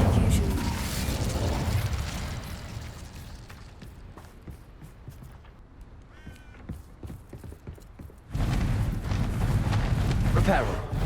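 An Incendio fire spell from Hogwarts Legacy erupts partway through as a sudden loud, sustained whooshing roar of flame, following quieter stretches of game ambience and scattered clatter.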